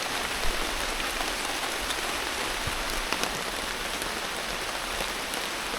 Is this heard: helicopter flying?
no